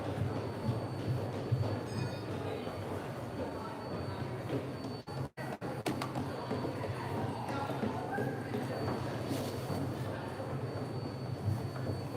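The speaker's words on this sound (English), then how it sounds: "Starting off with the usual New York City subway station" Busy New York City subway station ambience near 14th Street: a train's rumble and rhythmic clatter on the tracks, with echoing crowd noise and distant voices throughout.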